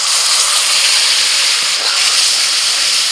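Ground spice paste hits hot oil in a pan with dried spice powders and kasuri methi, giving a loud, steady close sizzle that hisses continuously throughout.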